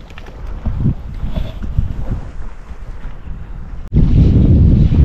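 Wind blows across a kayak on coastal water, a steady roar of buffeting on the microphone with soft water sounds beneath. It builds sharply to a louder gust near the end.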